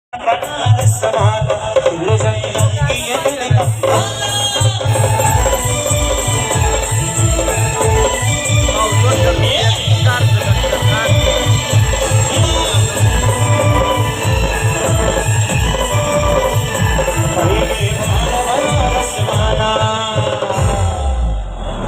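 A brass band playing at a crowded Marathi procession, loud steady drumbeat and blaring horns carrying continuously throughout, close and dense with crowd noise mixed in.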